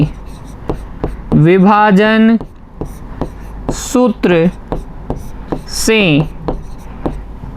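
Chalk or pen writing out the section formula during a Class 10 coordinate geometry maths lesson, a series of short scratchy strokes and taps heard under a teacher's talking.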